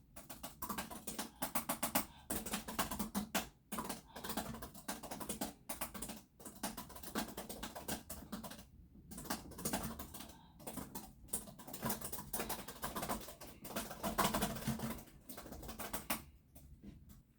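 Continuous rapid typing on a laptop keyboard on a sit-stand desk, dense clicking keystrokes close up with brief pauses, no voices.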